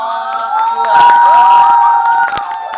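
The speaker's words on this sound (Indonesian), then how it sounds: "Tepuk tangan buat kelompok" Children in a classroom clap and cheer for a group, a loud burst of applause and excited voices swelling in the middle and lingering throughout.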